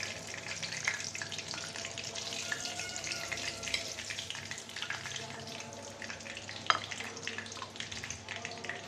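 Fish frying in oil, a soft continuous sizzle with light crackling and an occasional sharper pop, fairly quiet and without voices.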